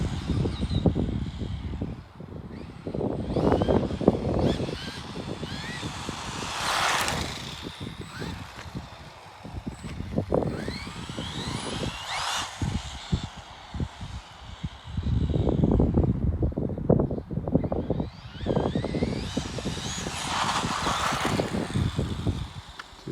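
A rebuilt Tamiya Top-Force radio-controlled car with a new motor and speed controller whines through repeated bursts of acceleration, rising and falling at mid distance over tyre and gravel noise.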